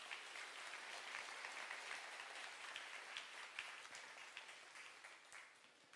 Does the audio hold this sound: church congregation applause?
yes